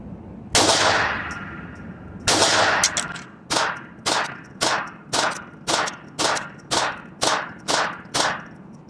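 A Taurus TX22 Compact .22 pistol fires during a function test: two sharp shots, then a rapid, evenly spaced string of about ten more, each loud and close with a bright ringing tail, and no talking.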